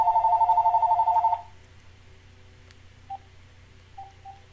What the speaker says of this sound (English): Oh, there goes my phone.